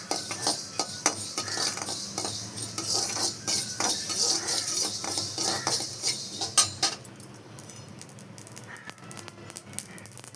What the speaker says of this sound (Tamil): இப்போ எண்ணெய் இல்லாமல் இந்த கடுகை எண்ணெய் சட்டியில் போட்டு வறுத்து எடுத்துக்கணும்.